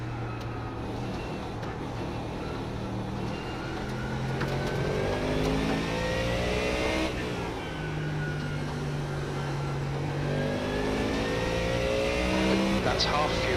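Race car engine in iRacing at Spa during a 12-hour endurance event, loud and continuous with rising and falling harmonic sweeps through gear changes while catching a slower class car.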